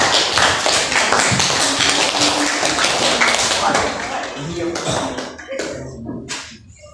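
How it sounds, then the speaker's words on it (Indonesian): Junior high school class in Indonesia clapping for a student group after a drama presentation, a brief burst of mixed hand claps and taps that thins out, with students chattering and moving around it. "Tepuk tangan untuk kelompok 4."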